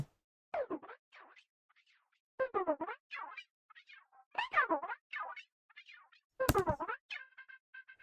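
Warbling delayed notes with random pitch automation bend up and down erratically, like chattering alien speech, in scattered bursts with gaps between them.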